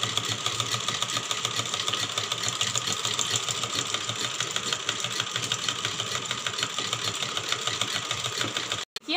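A sewing machine runs steadily while stitching the lining of a princess-cut blouse, a continuous close mechanical whir with fast needle ticking that stops abruptly at the very end.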